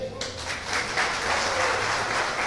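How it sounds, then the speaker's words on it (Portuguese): A church congregation bursts into applause for a pastor in the middle of a sermon, dense clapping that swells quickly and holds steady at moderate loudness. "Aplauda ele."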